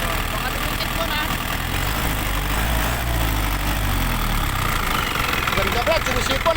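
Isuzu 4HE1 turbo diesel with a six-speed gearbox running steadily up close, a thin turbo whistle riding over the low diesel clatter while someone talks over it.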